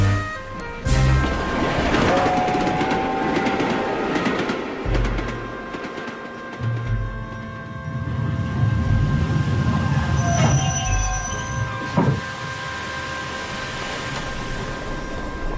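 Heavy rumbling of a train rolling along, with clanks, a crash-like jolt and a brief high wheel squeal over steady low mechanical noise.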